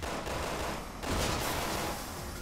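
Gunfire and an explosion in Resident Evil 6 Mercenaries: a dense, continuous burst of shots with a louder surge near the middle, heard alone without talk.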